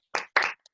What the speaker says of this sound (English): a big round of applause if people can unmute and do so